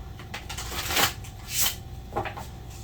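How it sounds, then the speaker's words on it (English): A tarot card deck is shuffled by hand close up, with bursts of crisp riffling and flicking cards in an uneven rhythm and no talking. "I feel like I really want to shuffle this deck really well."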